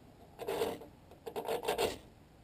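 A Firefly fire starter rasps across a dented knife blade in two short scraping passes, each a gritty stroke of moderate loudness with a brief pause between.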